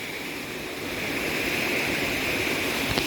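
Waterfall and creek at Salt Creek Falls, a constant roaring rush of falling and flowing water, steady and fairly loud, filling the whole scene without voices.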